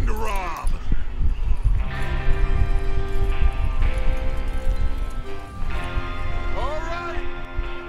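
Horses in the Western video game Red Dead Redemption clip-clop along steadily under game music and character dialogue, the hoofbeats moderately near and continuous throughout.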